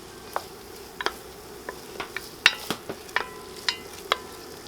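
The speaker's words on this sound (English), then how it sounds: "To that we're going to go ahead and throw in our onions." Onions and minced garlic sauté in a pan: a soft frying hiss close by, with a run of sharp spoon taps and scrapes against the pan, and no talk.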